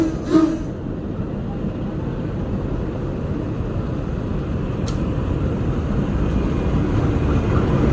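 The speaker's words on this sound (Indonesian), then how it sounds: "Oke, ini dia kereta api Manahan tambahan." Indonesian passenger train, the additional Manahan service with a new 2024 trainset hauled by a CC 204 locomotive, passing as a continuous low rumble and rolling roar that builds steadily, with a brief high squeal near the start.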